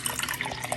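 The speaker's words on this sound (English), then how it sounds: "Alright, just pour a little bit of it in." Water pours into a cup, a close, steady splashing trickle with bright bubbling for under a second.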